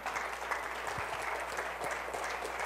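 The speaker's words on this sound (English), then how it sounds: "Y'all give God a hand clap" A church congregation claps their hands in a steady, dense wash of applause, sustained and moderately distant, filling the room for several seconds without a break.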